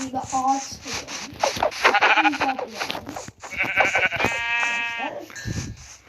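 Minecraft sheep bleats, several short nasal calls in a row, mixed with speech-like voices and small clicking effects.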